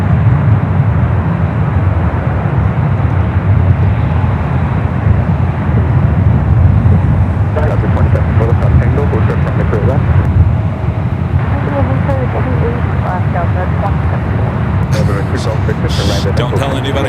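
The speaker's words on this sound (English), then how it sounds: "that to me looked like a double landing" Jet airliners landing at San Francisco International Airport, with a loud, steady roar and rumble mixed with wind buffeting across the whole stretch, and faint voices in the background.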